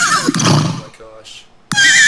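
A horse in The Sims 3 gives a short whinny near the start, followed by quieter game sounds and a brief blip. A voice speaks loudly over the end.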